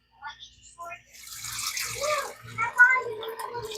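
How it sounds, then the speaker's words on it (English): Warm water poured from a tap for bread dough, a steady running splash that swells over a few seconds, close and moderately loud, with light kitchen clatter at the start. "2 cups of warm water."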